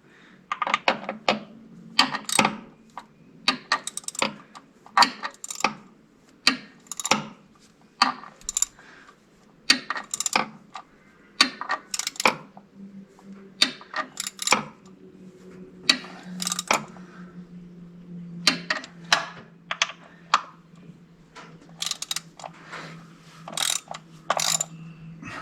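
A hand ratchet wrench tightens bolts on a 1959 Mercedes-Benz 220S Ponton, with repeated bursts of sharp metallic clicks, close and distinct, separated by short pauses and a faint low hum underneath.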